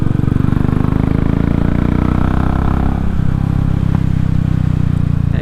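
A Royal Enfield motorcycle running a Race Dynamics Powertronic map idles close by, a loud, steady low thump with mechanical clatter and a slight change in engine note partway through.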